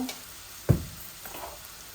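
Chopped vegetables and onions for fried rice sizzle in a hot pan, a soft steady fry broken by a sharp clack of a utensil and brief stirring scrapes close by.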